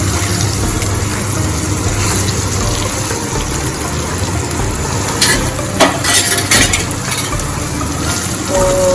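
Okra curry (bhindi shaak) being stirred in a hot pan: a steady oil sizzle with scraping strokes of the spoon, a few louder clattering stirs midway, and no voices.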